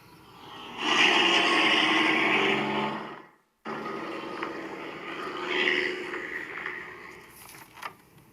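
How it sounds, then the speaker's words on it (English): A truck passing by on a residential road, a loud broadband roar that builds, holds steady, cuts out briefly and then continues as it moves along. "I want you to hear the sound of the truck going by, what it sounds like"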